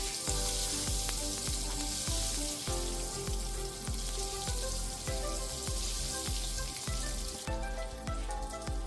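Butter melting in a hot pan gives a continuous close crackling sizzle with dense popping, steady and fairly loud throughout with no voices.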